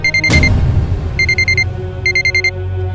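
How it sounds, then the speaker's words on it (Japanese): A loud electronic alarm clock beeps in rapid bursts of four or five tones with short pauses between, after a single dull thump at the start. "おいパワー、またお前目覚まし時計壊したのか"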